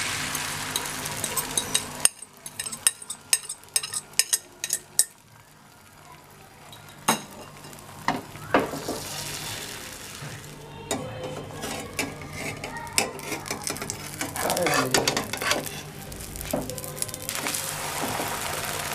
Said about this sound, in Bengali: বাকি ডিমটা আমি আবার দিয়ে দেব তাওয়াতে।